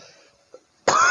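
A single loud, harsh cough from an indoor speaker, bursting abruptly after near silence.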